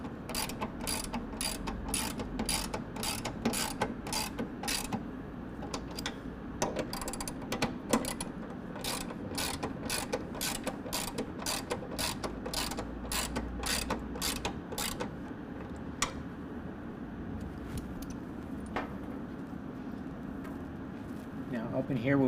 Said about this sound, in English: we can go ahead and tighten down the brackets to the rocker panel. Again, I'm going to use an extension with a 16 millimeter.